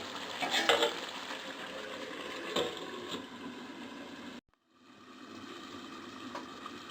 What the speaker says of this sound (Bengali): আমার মাংসটা কষাচ্ছি